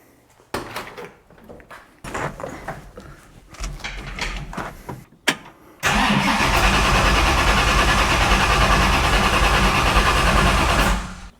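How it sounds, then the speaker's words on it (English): A 347 stroker engine cranks in several short bursts with pauses between them, then catches and roars to life, settling into a loud, steady running rumble close by. "turn the engine over and get it fired up"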